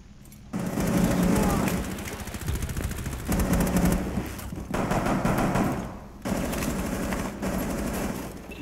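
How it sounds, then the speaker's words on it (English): Automatic gunfire in Rainbow Six Siege on the Bank map, with a Sledge operator shooting down through holes in the floor; sustained loud bursts with short pauses between them. "He's shooting through the holes in the floor."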